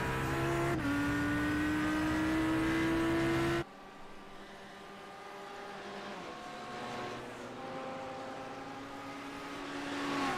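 Race car engines in iRacing at Bathurst, a loud, close, rising whine that cuts off abruptly, then quieter engine tones from several cars droning and shifting in the distance.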